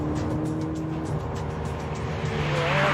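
A twin-turbo 670 hp Ferrari sports car drives on the road, its engine holding a steady, loud drone with rising tone toward the end, heard from inside or close by, with no talk over it.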